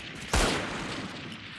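A single sharp burst of Stinger gunfire in a tactical shooter video game, one loud crack that decays quickly into low background game ambience, with no talk.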